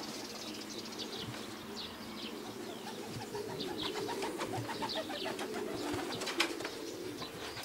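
Racing pigeons arrive and circle overhead outdoors, with repeated soft cooing, chirps and bursts of wing flapping over a steady background hum; no one speaks.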